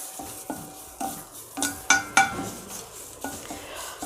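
Curry leaves being dry-roasted in a pan, with a utensil scraping and tapping against the metal in regular strokes about every half second, including a few sharper clinks, over a faint crackle. No one speaks.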